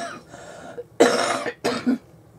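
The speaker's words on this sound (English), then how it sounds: "excuse my cough" Two harsh coughs in quick succession, close and loud, after a moment of quiet breathing.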